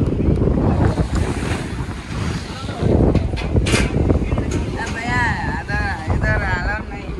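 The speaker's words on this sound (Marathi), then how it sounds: "आणि हा समुद्र" Sea waves wash against the shore at Rameshwaram in a loud, rolling rush, with strong wind buffeting the microphone and voices talking over the surf.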